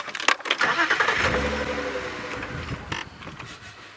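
A safari vehicle's engine cranks and catches, then runs with a steady low rumble and a few knocks and creaks, loud and close over outdoor ambience, in the bush during a sunrise game drive.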